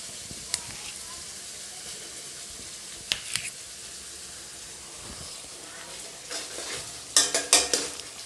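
Cream fries in a pan with tomato, garlic and chili paste, a quiet steady sizzle with occasional stirring, growing into louder clattering scrapes toward the end.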